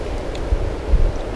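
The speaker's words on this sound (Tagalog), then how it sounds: "Grabe, ang lakas ng hangin." Strong wind gusting beside the Malico river at a motorcycle campsite, a loud low rumble of wind buffeting the microphone with a couple of heavier thumps, brief and without voices.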